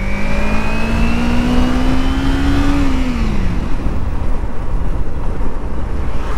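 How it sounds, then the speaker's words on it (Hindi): A 2013 Kawasaki Ninja motorcycle engine drones while being ridden, its pitch rising steadily then dropping as the rider shifts, with heavy wind rush over the microphone throughout and no talking. "भाई निंजा भैया के पास थी, लेके आया हूँ चलाने के लिए।"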